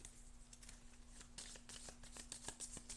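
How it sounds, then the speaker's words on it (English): Playing cards are shuffled during a tabletop board game session, giving a soft, continuous riffling texture with a run of crisp, rapid card snaps building toward the end, alone with no talk. "And we have to shuffle them again."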